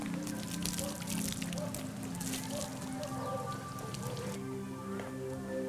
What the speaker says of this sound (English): Ruan begins each day bathing 6-year-old Seu Eye in the cold river water.